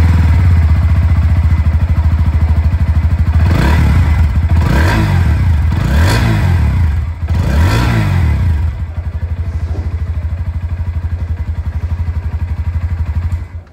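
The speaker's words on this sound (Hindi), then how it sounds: "अब मैं आप लोगों को जो NS 160 है इसकी भी आवाज़ सुना दूँ।" A Bajaj Pulsar NS160 motorcycle with an underbelly exhaust idles loudly and close by, blipped through several sharp revs in a row before settling back to a steady, throbbing idle.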